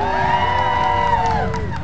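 Crowd cheering and shouting for lumberjacks at an outdoor chopping contest at a friendship festival. A dense, loud wash of voices fills about two seconds, with whoops and shrill shouts rising above it.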